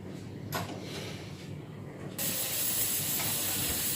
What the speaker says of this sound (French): Donc vous voyez là on commence à frire, donc le feu est moyen.